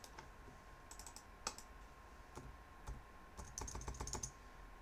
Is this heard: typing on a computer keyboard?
yes